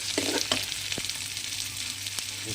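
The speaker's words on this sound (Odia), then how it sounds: "କିଛି ତେଲ ନେଇଯିବା, କିଛି ପିଆଜ ନେଇଯିବା। ପିଆଜକୁ କିଛି ସମୟ ଭାଜିବା।" Onions fry in hot oil for an Odia spiced dish, giving a steady close sizzle with a few faint stirring clinks and scrapes throughout.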